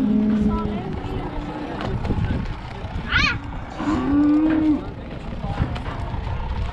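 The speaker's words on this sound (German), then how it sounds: "Gehandelt werden vor allem Kühe," A cow moos in a low, drawn-out call amid a noisy crowd, with voices and bustle of a busy outdoor livestock market in northern Iran around it.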